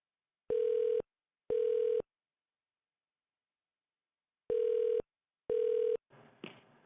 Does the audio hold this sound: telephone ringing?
yes